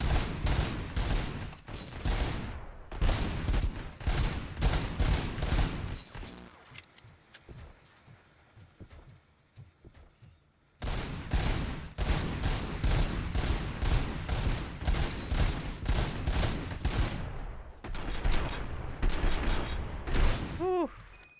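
Sustained automatic gunfire in the Robocop: Rogue City video game while fighting robots, dense rapid bursts that stop for a few seconds and then resume just as loud and continuous.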